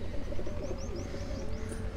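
A fancy pigeon held in a keeper's hand among a Sialkot pigeon-fancier group gives faint, soft chirps over a steady low background rumble.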